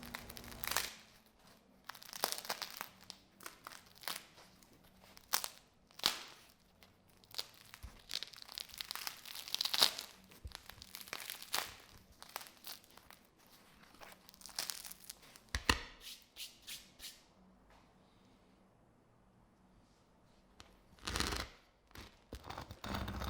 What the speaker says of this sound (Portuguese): a gente sentir o que foi cortar esses pães